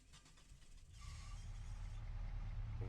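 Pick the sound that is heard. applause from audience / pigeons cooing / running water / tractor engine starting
tractor engine starting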